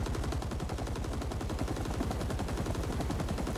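Sustained rapid machine-gun fire from a helicopter door gun in the Vietnam-era shooter Rising Storm 2: Vietnam, a loud, continuous stream of dense bursts with no pauses, alone without talk.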